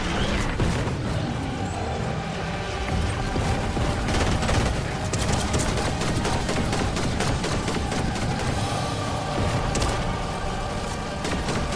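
Constant dense gunfire from the video game Fortnite during a live in-game event, rapid shots and bursts layered over a loud, busy mix with no pauses.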